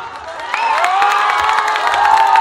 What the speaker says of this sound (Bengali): এবার ছেলেরা একটা হাততালি দাও।